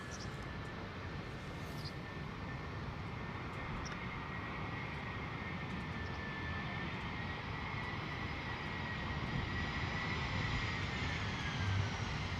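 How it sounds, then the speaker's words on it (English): An EasyJet airliner on its landing approach at London Luton Airport in wet, windy weather gives a steady, broad engine roar that builds slightly toward the end, heard at a distance with a faint whine above it. "Alright, EasyJet coming in."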